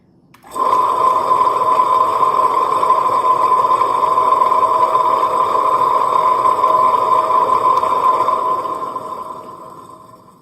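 A Premier Wonder chocolate refiner (melanger) runs with a loud, steady motor hum and a continuous grinding drone that starts abruptly and then holds evenly, fading slightly near the end, with no voices.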